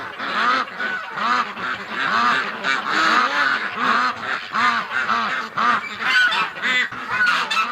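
Domestic ducks and geese honk and quack continuously at a farm gate, a dense, close, overlapping chorus of calls that rises and falls throughout.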